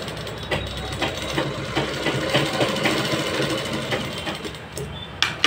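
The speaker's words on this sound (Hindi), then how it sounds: "हम इस बेल्ट के ऊपर एक सिलाई दाब सिलाई चला देंगे जिससे हमारा बेल्ट जो है जोड़ जो है इधर उधर न जाए।" Sewing machine running a line of stitching along a salwar waist belt, a close, steady rattling whirr of rapid needle strokes that continues throughout and stops briefly near the end, with no talk.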